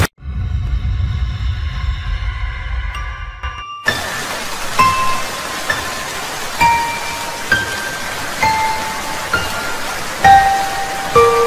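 A sustained, dense hiss of rainfall, with occasional sharper drip-like pings, follows a brief stretch of musical tones at the start.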